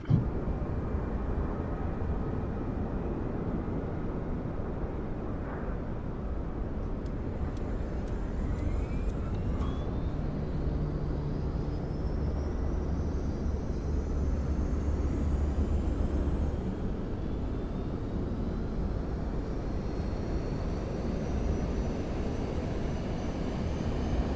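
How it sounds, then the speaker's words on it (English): An Airbus A380 auxiliary power unit spins up in Microsoft Flight Simulator 2024, a steady broad roar of cockpit and engine noise with a faint whine slowly rising in pitch over about twenty seconds. "So, flap open, so that means APU start. Let's start the APU here."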